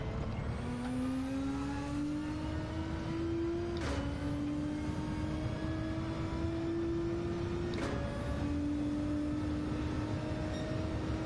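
A Peugeot RCZ engine in Gran Turismo 7 revs steadily upward in clear pitch climbs. Two quick gear shifts break the sweep, each followed by another rising pull, with no voices.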